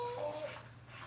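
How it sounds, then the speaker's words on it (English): A dog whimpers in a short high whine that fades within half a second, then thinner yips follow, close and fairly quiet, over a steady low household hum. "I'm sorry if you hear the dogs barking."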